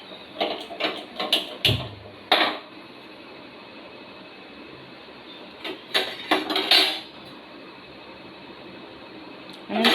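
Sesame seeds are dry-roasted in a pan, with scattered metallic clinks and scraping clatter from stirring coming in short bursts over a quiet, faintly hissing background.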